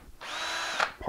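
A power drill whirs briefly as a hole saw bites into metal, a steady high whine lasting under a second before stopping.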